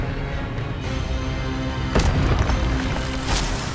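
Expelliarmus spells fire in Hogwarts Legacy, with heavy booming magical blasts and sharp impacts rising over a constant game soundscape, two big hits standing out.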